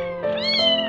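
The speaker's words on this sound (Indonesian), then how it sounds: "jeritan anak kucing itu bikin sesek hati" An abandoned kitten at a market cries out for its mother, one high, strained meow rising in pitch, close and loud, heard alone.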